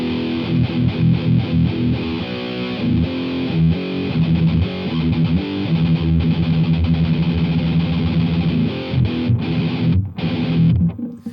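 Electric guitar played through a Boss Metal Zone distortion pedal, a thick, heavily saturated metal tone with chugging rhythmic chords, loud and continuous with no talking.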